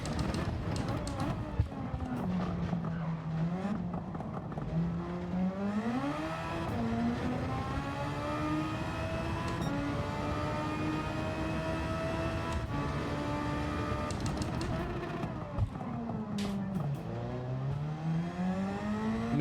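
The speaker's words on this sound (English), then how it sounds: "You could hear me kind of revving it out in first gear, just blasting through the gears in less than a second." Race car engine in a racing video game, revving hard and shifting rapidly up through the gears, pitch climbing and dropping repeatedly as a loud continuous drone.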